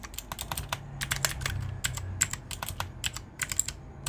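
Rapid keystrokes on a computer keyboard entering the ipconfig command in a command prompt, a steady run of close, crisp clicks with no talking.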